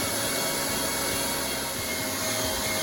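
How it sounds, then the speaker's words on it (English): Food processor grinding firm sprouted nuts for crackers, a steady, loud, continuous motor whir with a dense grinding texture and no talking. "so it's pretty much done grinding"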